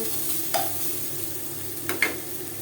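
Vegetables and potato stir-frying in a pan for chow mein, a constant close sizzle broken by a few quick scraping strokes of a spatula.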